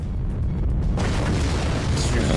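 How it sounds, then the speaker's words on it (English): A structure blown up in the video game Forts, a deep rumbling boom that swells into a broad roaring blast of debris, loud and close. "May as well just blow it the fuck up."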